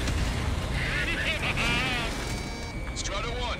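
Missile strike explosion in the Ace Combat 7 flight game, a loud rumbling blast layered over constant jet engine roar, with radio chatter and tonal cockpit cues running through it.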